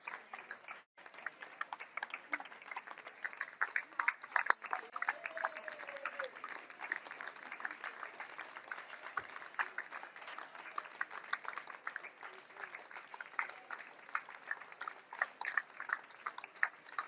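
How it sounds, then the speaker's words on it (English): Heroes Flight honorees arriving in Washington, D.C. are greeted by steady applause from a crowd, a long, even patter of many hands clapping at moderate distance, continuing for over fifteen seconds with faint voices mixed in. "yes, they are being met with a round of applause"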